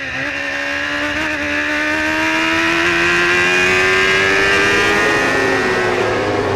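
Racing car at Brands Hatch with a raucous, broken exhaust or loose exhaust mounting, its loud engine note rising steadily as it passes close by, with continuous roar and no talk.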